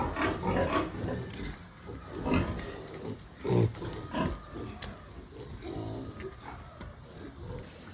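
Pigs being raised for sale on a farm grunt and squeal almost continuously, close and fairly loud, in overlapping rough bursts with no clear pauses.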